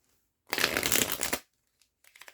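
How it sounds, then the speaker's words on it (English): A single quick riffle of tarot cards being shuffled, crisp and close, lasting about a second, followed by a few faint soft taps. "Let me give it another shuffle."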